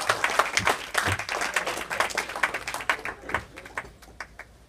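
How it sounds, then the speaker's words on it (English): A comedy club audience claps for the next comedian, a brisk, irregular patter of many hands that gradually thins out toward the end, heard at moderate distance with little talk. "Everybody start right now clapping your hands for this next comedian, Yuri. Kagan, everybody."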